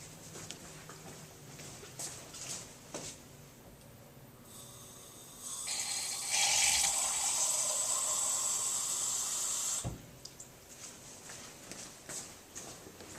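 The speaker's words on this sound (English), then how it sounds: "you're going to have to get some water in your beaker at one of the sinks" Water runs from a lab sink tap into a beaker, a steady loud hiss lasting several seconds before cutting off, with quieter handling noises before and after.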